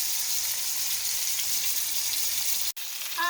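A pork roast browns in a hot pan, giving a steady, close, broadband sizzle that continues throughout, with one brief dropout near the end.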